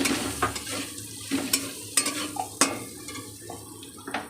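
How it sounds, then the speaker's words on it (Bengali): Potatoes frying in a pan with chili powder are stirred, giving a soft continuous sizzle broken by irregular scraping and clinking strokes of the spoon against the pan, close and fairly quiet. "এবারে দিয়ে দেব লঙ্কার গুঁড়ো। একটু নাড়া দিয়ে নিচ্ছি।"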